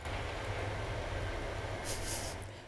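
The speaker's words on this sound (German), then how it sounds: "Zug, Heißluftfritteuse," A train rumbles past a roadside studio as a continuous low, rushing roar with a brief hiss near the end, fairly distant and heard alone.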